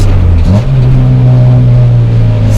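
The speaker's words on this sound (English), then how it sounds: "Just listen to the exhaust note change" A Honda Integra Type R DC2 engine drones steadily and loudly, its pitch climbing as the revs rise past 3,000 RPM, with a deep, throaty exhaust note throughout.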